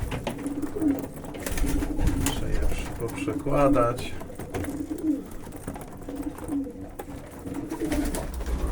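Vienna highflyer pigeons coo in low, throaty rolls close by in a loft, repeating through the clip while someone talks over them.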